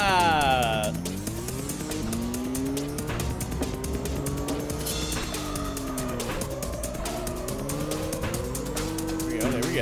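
Car engine in the racing video game Driftline Peaks revving and dropping through gears, with rising and falling pitch sweeps and tire noise throughout, under a player's speech.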